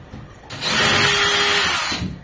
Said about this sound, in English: I drill the first point.